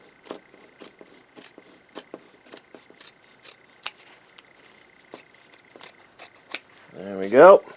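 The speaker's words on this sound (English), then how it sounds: "these scissors are also terrible, but not as terrible as the other ones." Scissors snipping close by at a sewing and embroidery workbench, a steady series of short, sharp metallic cuts spaced about half a second apart, followed by a brief spoken voice at the end.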